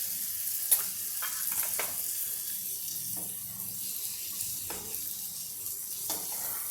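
Tomatoes frying in butter in a pan for masala pav, a steady soft sizzle running throughout with a few light clinks and stirring scrapes, no voices.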